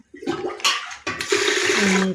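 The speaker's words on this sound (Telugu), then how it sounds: "పప్పుని రైస్ని కడుగుతున్నాను." Lentils and rice are washed in water for dal rice, with loud close splashing and rushing water in two bursts, the second longer and sustained.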